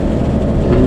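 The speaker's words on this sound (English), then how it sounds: "Got to change down a gear here. The joys of having a manual." A car engine with a manual gearbox drones steadily and loudly from close by during a downshift. The burst is very short, with no voices.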